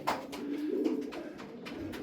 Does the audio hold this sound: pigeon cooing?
yes